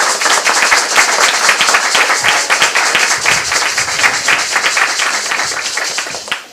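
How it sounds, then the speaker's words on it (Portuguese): An audience claps in a dense, lively burst of applause that holds steady and then tapers off near the end. "peço uma salva de palmas"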